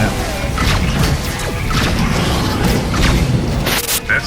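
Homing missile explosions in the Rebel Galaxy space combat video game, dense rumbling booms and crashes layered over constant mechanical game noise, with a voice speaking over part of it.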